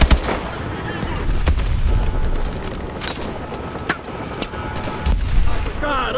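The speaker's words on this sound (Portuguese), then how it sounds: "Explosões de pressão, o lugar vai pelos ares." Explosions and gunfire from the video game Call of Duty Advanced Warfare: sharp loud bursts and booms over a dense, constant rumbling battle din, with a few isolated sharp cracks near the middle and a heavier blast near the end.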